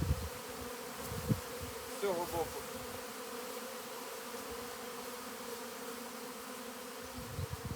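Honeybees stream out of a hive on its north side, a constant close buzzing drone with individual bees passing near, while someone speaks briefly.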